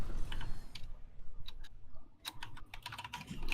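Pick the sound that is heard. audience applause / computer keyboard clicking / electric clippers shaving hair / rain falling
computer keyboard clicking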